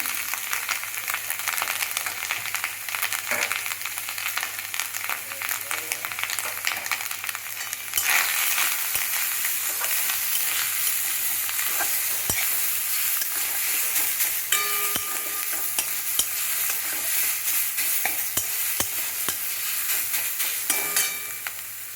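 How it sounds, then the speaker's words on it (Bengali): Grated coconut, with a few coconut slivers, fries in a pan under steady sizzling, with repeated scraping and clinking of a spatula as it is stirred, continuous and close with no talk. "নারকেল কোড়াটা ভালো করে নাড়তে হবে, নয়তো পুড়ে যাবে।"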